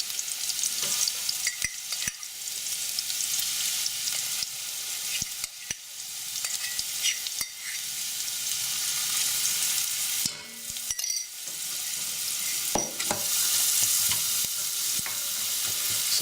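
Garlic and spices frying in hot oil, a dense, continuous sizzle that stays loud and close throughout, with brief stirring clatters and a short dip in the middle.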